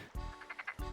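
Frog croaking in Animal Crossing: City Folk: two deep, short croaks with a run of lighter chirps between them, close and clear, with no talking.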